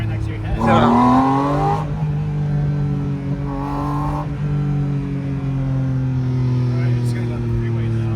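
A Porsche Boxster Spyder RS (982) heard from the passenger seat as its engine pulls hard, a loud steady drone rising in pitch through a couple of surges, with people talking over it inside the cabin.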